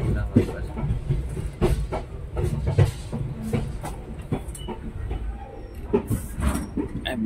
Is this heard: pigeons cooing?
no